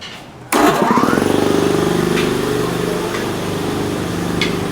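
An air compressor in a workshop where a 1999 Mercury Grand Marquis AODE transmission is being examined kicks on abruptly after a brief quiet moment, then runs with a loud, steady, slightly pulsing motor drone to the end.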